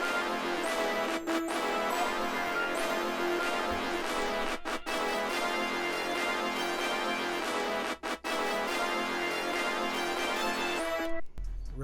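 A glitchy synth lead melody processed with a Looperator effect in FL Studio plays with a stuttering, chopped texture and sudden momentary cutouts, sounding dense and bright without any voices before a brief low thump at the end.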